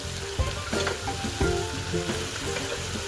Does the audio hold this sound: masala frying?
yes